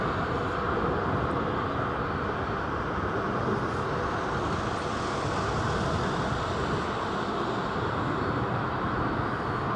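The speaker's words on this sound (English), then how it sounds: "Egypt Air 777 from Cairo" An EgyptAir Boeing 777 arriving from Cairo at London Heathrow produces a steady, broad jet roar that holds constant and loud throughout, without voices.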